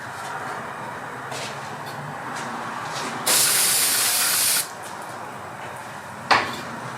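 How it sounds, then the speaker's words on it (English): Brake cleaner sprayed onto a Jeep Renegade rear brake rotor: one strong, loud aerosol hiss lasting over a second, set among faint shop noise and a brief later spritz. "Sprayed the rotor off with some brake cleaner"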